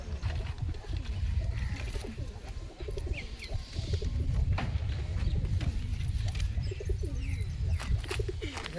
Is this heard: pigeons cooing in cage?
yes